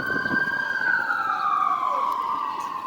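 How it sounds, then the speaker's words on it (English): An emergency siren wails loud and close, its steady rising tone sliding slowly downward over a few seconds with no voices. "Sound the horns."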